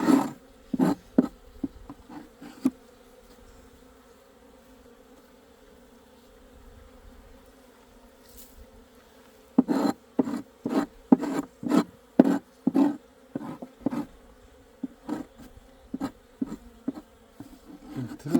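Asian honeybees hum steadily, close up, while sharp scraping clicks repeat in quick irregular runs over the buzzing.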